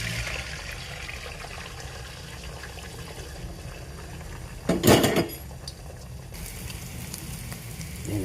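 Tomato, garlic, onion and pechay sautéed in a pan, with a steady soft sizzle and scraping of a utensil against the pan, plus one brief loud clatter of metal partway through.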